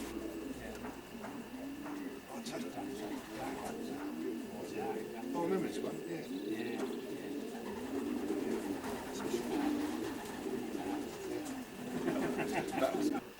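Long-distance racing pigeons cooing steadily in a loft, soft repeated low coos at close range while someone talks over them.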